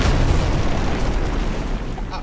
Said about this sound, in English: Well, yeah, the explosions.